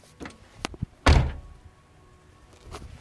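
A 1991 Ford Probe door with no handle swings shut in one heavy, close thunk after a few lighter knocks, then quiet with a faint tap near the end.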